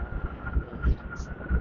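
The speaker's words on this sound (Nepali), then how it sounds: "त्यो हावाले हानिरहेको छ कि होइन" Wind buffets the microphone during an outdoor scooter ride from Pokhara toward Mustang, a low rumbling roar with a few stronger gusts thumping through over a short stretch.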